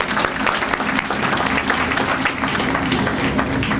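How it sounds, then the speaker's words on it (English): An audience at a library groundbreaking celebration claps in a sustained, dense round of applause, moderately loud and even from start to finish. "we could give him a round of applause."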